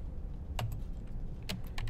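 Several short bursts of keystrokes on a computer keyboard, close and fairly quiet, separated by brief pauses over steady low background hum; no talking.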